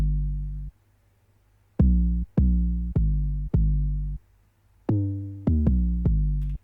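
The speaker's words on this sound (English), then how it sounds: "this is called an 808, which is a deep, deep, deep pitched bass sound" A deep 808 bass in a beat hits in a sequence of booming notes, each decaying slowly, with a gap after the first hit and then a rhythmic run of notes, some quicker and overlapping.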